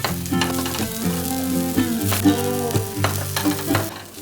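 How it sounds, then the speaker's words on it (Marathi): Corn cheese paratha crisping in oil on a hot pan, a loud, close, continuous sizzle and crackle with scattered spatula taps and a sustained tonal hum underneath; no talking. "बाजूने छान तेल सोडतेय मी आणि आता दोन्ही साइडने छान तो खरपूस भाजून घ्यायचा आहे"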